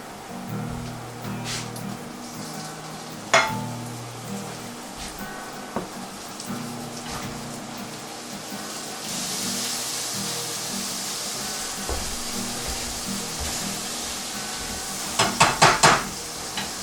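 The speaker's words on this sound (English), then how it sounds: "we're going to add our tomatoes" Tomatoes go into a hot pan of softened onions and garlic for shrimp scampi. A continuous close sizzle runs under scattered utensil taps, swells into a brighter hiss partway through, and ends with a quick clatter of metal.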